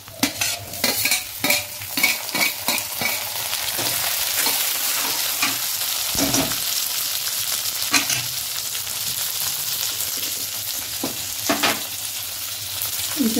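Tomatoes fry and sizzle in a pan for a Chhattisgarhi greens dish, with a dense steady hiss broken by repeated spatula scrapes and stirring knocks, loud and close.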